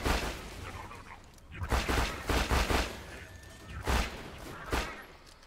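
Jakobs Maggie pistol firing in Borderlands 2: clusters of sharp, close shots, a quick run of several together, then single cracks a second or so apart over a low ambient bed.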